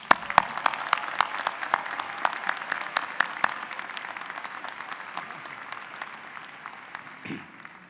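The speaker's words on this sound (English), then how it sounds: "Now, raucous applause." Applause rises from a commencement ceremony for a college of liberal arts, with a few sharp nearby claps standing out over a broad crowd that slowly thins and softens toward the end.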